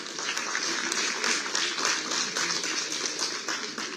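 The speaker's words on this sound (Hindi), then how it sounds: "आप सभी नौजवानों से मेरा निवेदन जोरदार तालियों के साथ" A crowd at an appointment-letter ceremony in Dehradun applauds steadily, a dense, even wash of many hands clapping at fairly close range that holds for several seconds without pause.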